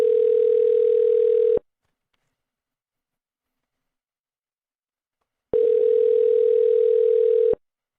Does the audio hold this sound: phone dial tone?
yes